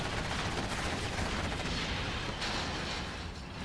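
Inferno cannons fire in a strategy video game battle, a dense, continuous barrage of rumbling blasts and crackling impacts that stays loud and steady for several seconds.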